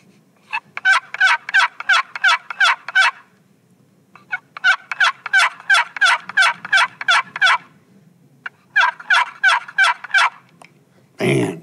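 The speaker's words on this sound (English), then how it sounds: "give it a good old rip so people can hear what that turkey call sounds like" A Quaker Boy turkey call is worked in three loud, rapid runs of sharp gobbling yelps, each burst evenly spaced, with short pauses between runs and a brief thump at the end.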